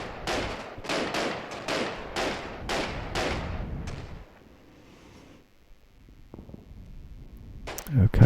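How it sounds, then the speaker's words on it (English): Anti-aircraft guns fire in a war video game, a rapid series of about ten sharp, loud reports in quick rhythm, then a fading rumble and a few scattered thuds near the end. "Anti-aircraft guns engaging more armour."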